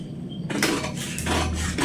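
Scissors snip through blouse fabric on a tailoring table, a few close crisp cuts with slides and rubs of the blade against cloth and a hard surface, no voice.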